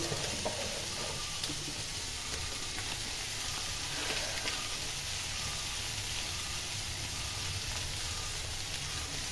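Turmeric and Kashmiri chili powder sizzle in a frying pan, a steady, fairly faint crackling hiss that runs evenly throughout without talk.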